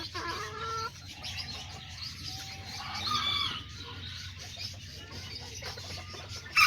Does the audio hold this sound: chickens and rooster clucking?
yes